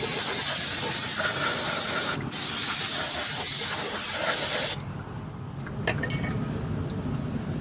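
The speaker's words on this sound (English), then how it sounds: "let's go ahead and clean our assembly off. Only use brake cleaner, don't use carburetor cleaner or anything else." Brake cleaner hisses from an aerosol can onto a Ford truck brake caliper assembly in one long, loud, steady spray, then cuts out and leaves a quieter background with a few short bursts.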